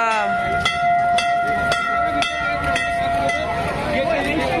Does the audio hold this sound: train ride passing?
yes